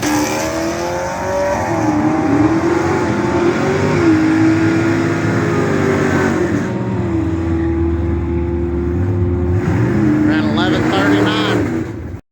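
Drag racing car at a test and tune session, running on a light E85 blend with the tires spinning; a loud, sustained engine roar holds steady for about ten seconds and then fades away, with voices faintly underneath.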